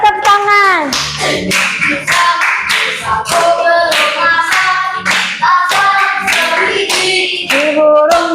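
A group claps by hand in a classroom setting, with steady, loud claps running throughout beneath bright singing voices.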